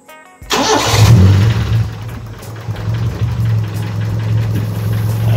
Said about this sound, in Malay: Saya start engine dulu.